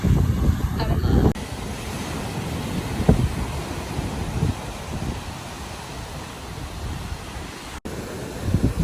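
Ocean waves break against low cliffs at Lennox Head, Australia, with wind buffeting the microphone, making a steady, close rushing roar throughout.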